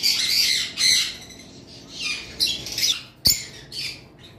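A young pair of non-ringed lovebirds, a blue male and a female, let out a burst of loud, sharp squawks and chirps in quick, uneven succession, close by.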